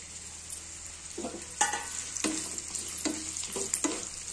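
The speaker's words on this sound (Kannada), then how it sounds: "ಇದ್ರದಾಗಿಂದ ಸ್ವಲ್ಪ ಅಂದ್ರೆ ಎಣ್ಣೆದಾಗಿಂದ ಫ್ರೈ ಮಾಡಿ ತೆಕ್ಕೋತೀನಿ ರೀ" Raw mango pieces frying in hot oil, a continuous close sizzle with several sharper scrapes and clatters of stirring scattered through, no voices.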